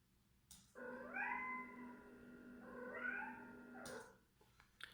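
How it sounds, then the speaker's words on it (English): A cat gives two long, drawn-out meows in a row, clear and fairly close, against a quiet background. "I already know that this is a sound of a happy cat"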